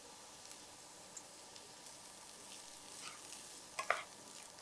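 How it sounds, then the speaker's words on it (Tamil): Rice with turmeric being stirred in a hot pan, a faint scraping and soft sizzle that stays low and steady, with a few sharper utensil clinks near the end. "இப்போ இந்த ரைஸ் சூடாகிற அளவுக்கு நம்ம கலந்து விடணும்"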